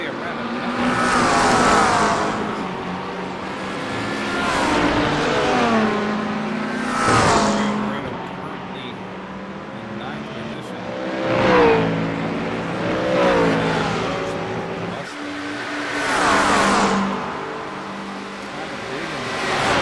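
A Mustang GT3 race car circles a track, its engine rising and falling through repeated revs and gear changes in several rolling waves, loud and steady over about twenty seconds with no clear voices.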